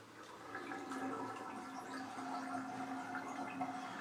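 Water gurgles and drains out of a freshly washed hat sitting in a sink, a quiet, steady bubbling rush lasting a few seconds with no talking.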